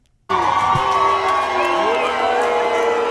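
A large concert crowd booing New Jersey Governor Phil Murphy, a loud sustained roar of jeers and shouts that starts abruptly and continues without pause.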